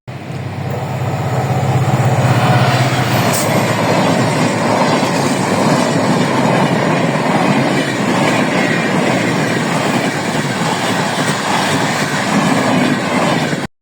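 A train passes close by with a loud, continuous rumble and rhythmic clickety-clack of wheels on the track, holding steady for the whole stretch.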